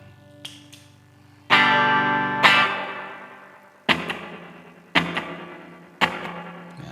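Electric guitar played through a secondhand reverb effect pedal on a pedalboard, loud strummed chords and single hits ringing out with long decaying tails, about six attacks in all, with no voice.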